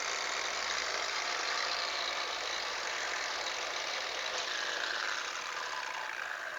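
An SP Tools cordless polisher on a 3 amp-hour battery runs with an even, close motor whine and airy hiss, holding one steady speed throughout, with no talking.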